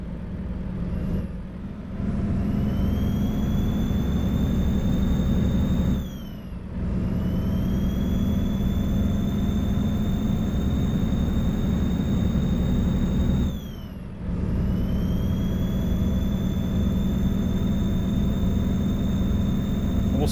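Freightliner Cascadia truck engine in American Truck Simulator, a steady loud diesel drone with brief dips in power around two gear changes.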